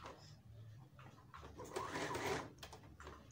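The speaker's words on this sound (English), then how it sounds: "So I'm just going to take my machine over it using my back stitches." A sewing machine back-stitching and top-stitching hijab fabric whirs in short, faint bursts that build into a steadier run near the end, close by with no talk.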